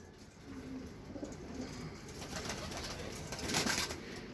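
Grey pigeons in a home loft coo softly and at a distance, with low, muffled calls repeating under faint background noise.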